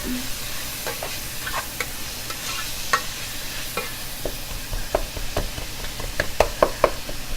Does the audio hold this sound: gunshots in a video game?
no